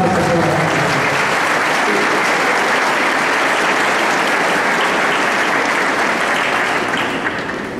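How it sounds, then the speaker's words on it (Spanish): An audience gives strong, sustained applause after remarks by a departmental education director, a loud, even sheet of clapping that stays full before easing slightly at the end. "Fuertes aplausos, señor."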